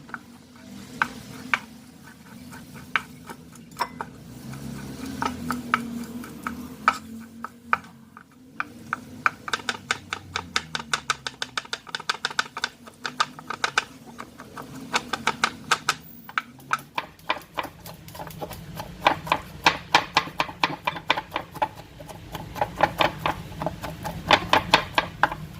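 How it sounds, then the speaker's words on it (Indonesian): Shrimp minced with a knife on a board for fish siomay, rapid rhythmic chopping taps that thicken into dense bursts over a low background hum, close and fairly quiet. "Udangnya juga saya cincang ya."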